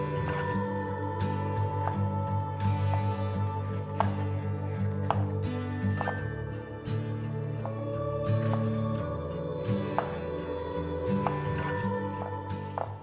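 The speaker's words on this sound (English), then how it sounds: "3 baby bok choy, roughly chopped." A knife roughly chops baby bok choy on a board in a string of close, crisp thuds, some spaced and some quick, over a steady hum, with no talk.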